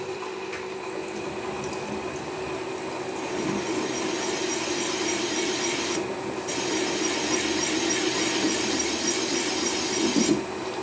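A metal part turning on a machine with a dividing head while a finish cut is taken, giving a steady grinding, rasping drone with faint squealing tones and a few brief scrapes, close and constant.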